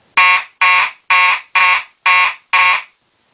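Six loud, evenly spaced blasts from a Simplex 4901-9805 fire alarm horn ring out in march-time pattern, each burst short and harsh with brief gaps between, then silence.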